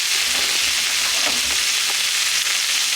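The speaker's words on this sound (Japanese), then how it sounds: "キャベツ入れちゃって、キャベツもきっとこれ焦がした方が美味しいから、ちょっと焦がす" Cabbage frying for cream stew, a loud, steady, close hiss of sizzling oil with a few faint scraping stirs and no talking.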